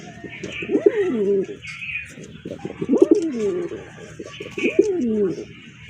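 A large red pigeon of a big fancy breed coos in repeated, clear rolling phrases, close and fairly loud, about three calls in succession with faint chirps in the background.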